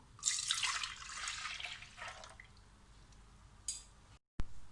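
Full-fat milk pours into a pressure cooker in a splashing, gurgling stream for about two seconds, then trickles and drips off before a brief final splash, with no one talking.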